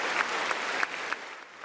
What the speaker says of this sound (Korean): 옆자리에 있던 김건희 여사도 함께 일어나 박수를 보냈습니다